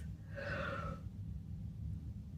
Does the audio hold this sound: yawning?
yes